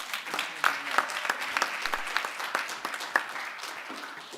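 Applause from delegates at a parliamentary meeting of women parliamentarians, a steady patter of many hands with scattered sharper claps, moderately loud and even throughout.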